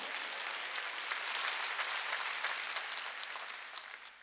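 A church congregation at a peace and reunification prayer service breaks into sustained applause, many hands clapping in a dense, even roar that swells in the middle and tapers slightly toward the end.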